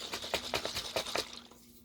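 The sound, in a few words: shaking water in a sauce jar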